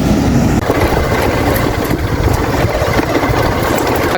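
A motorcycle engine idles and runs steadily close by as a ride gets under way, a continuous loud mechanical rumble with no talk.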